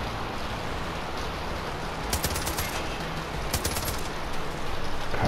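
Rapid automatic gunfire in the shooter game Far Cry 5, two short bursts of crackling shots over a steady wash of rain-like background noise.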